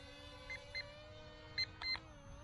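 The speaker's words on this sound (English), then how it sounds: "There's the beeping I'm talking about." A drone sounds a sequence of electronic warning beeps ahead of auto-landing, a few short tones in quick bursts over a steady motor whine.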